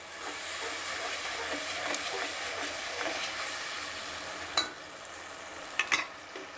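Ginger, garlic and green chili paste frying with tomatoes in a pan, a steady soft sizzle and hiss with a few faint clinks of stirring toward the end, fairly quiet and without talk.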